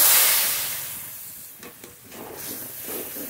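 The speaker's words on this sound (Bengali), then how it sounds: "ধোয়া জল দিয়ে কষিয়ে নেব মশলাটা" A spice paste, loosened with a splash of rinse water, hisses loudly in a pan, the steamy sizzle fading over a few seconds before settling into a softer bubbling fry, with no voices.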